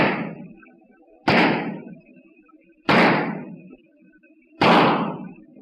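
Heavy door slams or pounding blows in an old-time radio crime drama, four loud, sharp impacts spaced roughly 1.5 seconds apart, each trailing off into a brief room decay, with no talk in between.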